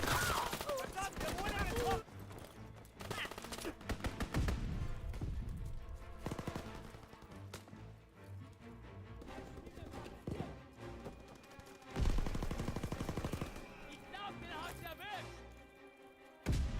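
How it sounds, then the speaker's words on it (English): Video game strafing run with gunfire: dense bursts and a rapid fusillade of shots alongside mixed game noise, with a voice talking over it. "Recon airborne. Strafing run inbound."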